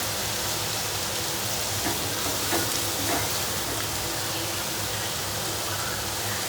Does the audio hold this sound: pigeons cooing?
no